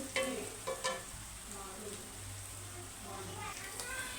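Ginger garlic paste with a pinch of turmeric frying in a pan for chicken curry, a soft continuous sizzle with a few clinks of stirring, quiet and close.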